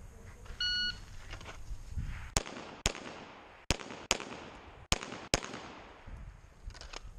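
Six sharp pistol shots from a CZ-02 ring out during USPSA practice, a quick pair, then another pair and a final close pair, each crack loud and near with short decays, preceded by a brief electronic beep.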